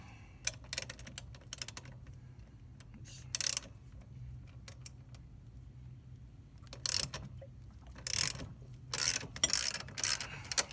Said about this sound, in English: So I actually need to loosen up the axle to be able to move it.